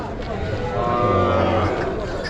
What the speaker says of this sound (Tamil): ஃபுல் வண்டி மாடுகள் தான் அதாவது புங்கநல்லூரில் இருந்து கொண்டு வந்திருக்காங்க